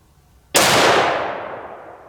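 A single sharp, loud 6.5 Creedmoor rifle shot fired with a muzzle brake, a sudden crack followed by a long fading outdoor echo.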